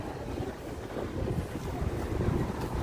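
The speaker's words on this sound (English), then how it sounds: "It's a little windy, but not much." Gusty wind buffets the microphone steadily on an evening New York City street in Little Italy and Chinatown, a constant low rumbling roar with no voices.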